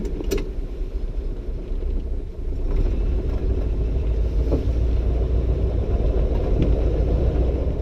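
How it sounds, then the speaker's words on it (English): A 1937 Packard Super 8 convertible sedan drives along with a low, steady engine rumble and road noise, the drone growing slightly fuller after a brief dip, heard from inside the car. "Today we're in a beautiful 1937 Packard Super 8 convertible sedan. We're going to take it for a drive"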